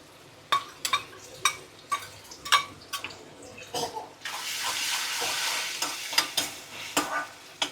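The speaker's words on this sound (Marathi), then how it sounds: "तर आता याच्यामध्ये टाकतोय आपण आलं लसूण." Ginger and garlic are tossed into a hot pan of onion and tomato for a clam masala, with sharp spoon scrapes and clacks stirring steadily, then a loud, sustained sizzle bursting up midway, close and without talk.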